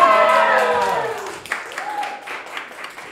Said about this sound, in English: can we give her a nice round of applause?